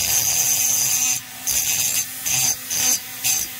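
A rotary grinder whines steadily as it chamfers the cylinder ports of a chainsaw to remove chipped plating, the loud, close grinding repeatedly cut off for short pauses and then resumed.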